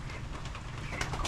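Pigeons kept outdoors on a rainy day give a brief low cooing against a steady wet background hiss, close by and fairly soft.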